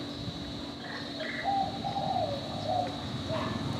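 A spotted dove with black-red plumage coos in a short, soft, low hooting phrase over steady background hum, fairly close but quiet.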